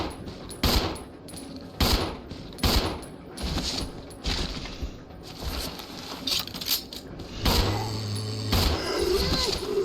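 Gunshots ring out at zombies in Resident Evil 0, a series of sharp evenly spaced shots with clinking and debris between them, close and loud, with a voice speaking in the gaps.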